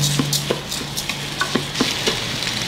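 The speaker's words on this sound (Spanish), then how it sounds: "Seguimos en la función de saltear. Voy a agregar el arroz." Rice is stirred into a pot on a sauté setting, with a spoon scraping and knocking in a steady rhythm against a soft sizzle. The sounds are close and moderately loud, and no one speaks.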